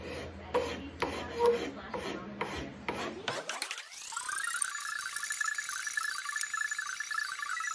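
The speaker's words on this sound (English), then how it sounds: "I'm going to make some refinements in it with just files and scrapers and" Hand files and scrapers working a wooden acoustic guitar bridge, rapid rhythmic rasping strokes close up, then giving way to a rising whine that levels into a steady high tone.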